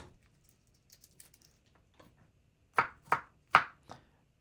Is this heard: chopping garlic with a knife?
yes